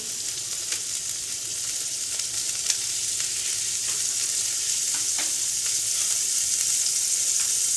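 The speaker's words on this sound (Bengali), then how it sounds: "এবার আমি কড়াইতে 1 চামচ বাটার দিয়ে দিচ্ছি।" A spoonful of butter melting in a wok makes a loud, close, continuous sizzle and hiss, steady from start to finish with faint scattered crackles.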